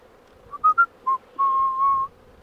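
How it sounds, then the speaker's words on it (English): A beekeeper whistles while working inside an open beehive: several short, clear notes in quick succession, then one long sustained tone, close and alone. "I can't sing like Alicia can sing, so I'm gonna whistle"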